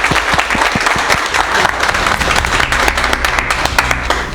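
Students in a mobile phone repair class clap together for their instructor and his team. The applause is loud and close, with sharp individual claps at first that merge into a dense, continuous roar.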